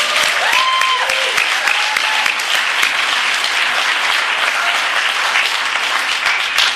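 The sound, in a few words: audience applauding the convention committee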